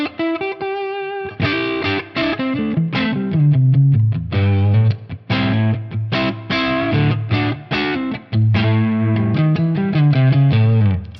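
An electric guitar on its neck pickup runs through a Tonex Sir Badge Double Cream amp model, playing distorted Marshall-style riffs. The choppy chords and single notes ring out loud and alone in quick rhythmic bursts.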